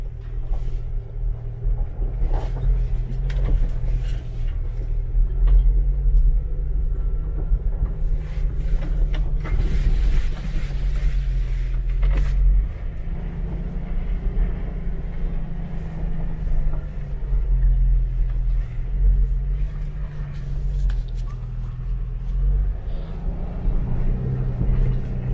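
A Jeep TJ with a rebuilt NSG370 transmission rolls along in first gear, giving a steady low engine and drivetrain rumble that holds evenly throughout with no talking.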